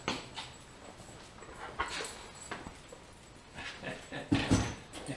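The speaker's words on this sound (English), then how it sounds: "There's my good puppies." Dogs whimpering and yipping softly in short, uneven bursts, fairly faint and close, with a louder cluster of whines near the end.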